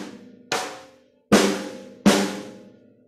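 A drum struck softly with wrist motion only, sounding three separate hits, each ringing out and fading before the next, close and alone.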